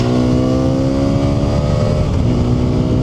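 Hero Xpulse 210 motorcycle engine accelerating hard on the road, a loud, steady high-revving drone with strong harmonic whine held throughout, close up with wind rush and no talking.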